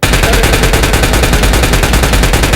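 A fast, continuous burst of M416 rifle fire in a video game, rapid-fire shots rattling loud and close without pause for under three seconds.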